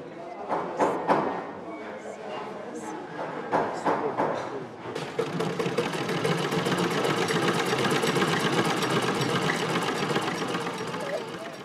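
Sewing machine running at a sewing class in a social educational center, short bursts at first then a steady rapid stitching whir, with faint chatter in the background.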